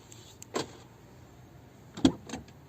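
A Seat car's door locks unlatching by remote key fob after the lock was lubricated with WD-40, two short mechanical clunks about a second and a half apart over a quiet background.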